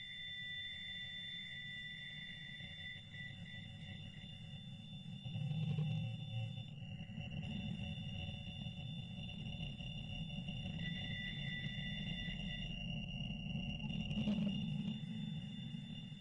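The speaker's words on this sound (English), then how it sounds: "Let's stop for a while and hear the recording of the signal." A recording of the Wow! radio signal picked up from outer space by the Big Ear radio telescope plays as a faint, steady electronic hum. Sustained tones drone over a low rumbling noise, with slight swells.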